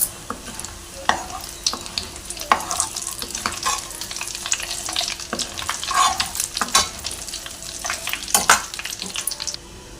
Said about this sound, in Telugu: జీలకర్ర కూడా ఇట్లా మంచిగా వేగింది కదండి.